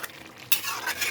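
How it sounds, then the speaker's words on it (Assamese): Chicken pieces fry with chopped banana stem in a pan, a soft hiss and sizzle with scraping stirring strokes of a utensil, rising in bursts about every half second. "প্ৰায় 10 মিনিটমান এনেকৈ মই ভাজি ল'লোঁ মাংসখিনি পচলাৰ সৈতে"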